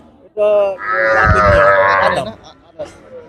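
A cow or heifer at a busy cattle market in Betaga, Bangladesh, gives one loud, drawn-out moo lasting a couple of seconds, close to the microphone, with a short grunt after it and people talking in the background.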